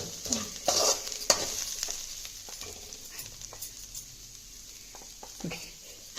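Masala powder is stirred into a bamboo shoot dish frying in a pan, with a soft continuous sizzle under scraping stirs and a few sharp clinks of the spoon near the start.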